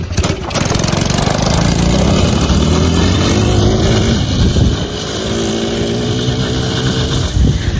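A quad bike engine running hard at close range, a loud, continuous buzzing drone with rising and falling revs that dips briefly and then settles to a steadier idle.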